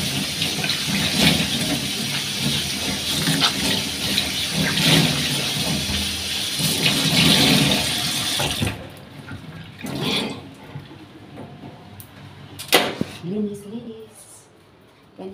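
Water runs from a tap for the first half as something is rinsed, a steady broadband rush that stops abruptly, leaving quieter knocks and a few voices talking.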